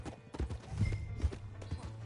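Horse hooves clip-clopping in the Red Dead Redemption 2 video game, a run of hard, close hoof strikes at an uneven trotting rhythm, with faint background ambience and no voices.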